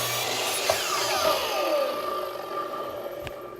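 Miter saw cutting through a wooden workpiece against a flip stop, heard as a steady whining saw tone with the blade dropping in pitch through the cut, fairly close and without talk.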